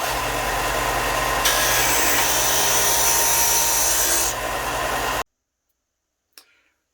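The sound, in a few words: disc sander narrowing a plywood ring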